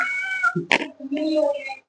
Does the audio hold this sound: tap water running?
no